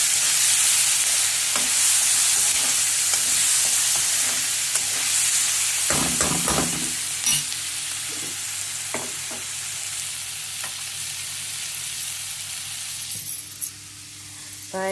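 Turmeric and asafoetida roasting in a hot pan, a steady hiss of frying with scattered clinks and scrapes of a utensil against the pan, close and unaccompanied by voices.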